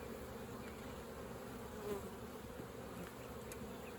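Honeybees buzz in an open beehive, a low, steady hum of many wings that stays continuous and fairly quiet, with no talking.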